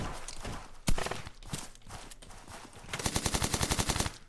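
Automatic gunfire sprays through glass in an io shooter game: scattered shots and one loud crack give way to a fast, continuous burst of rattling rounds toward the end.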